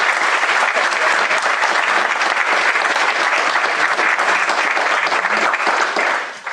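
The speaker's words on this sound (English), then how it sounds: "we will give her a round of applause" Sustained, dense applause fills a commencement ceremony hall for a BFA, MFA and certificate graduation, steady and loud throughout before fading away at the very end.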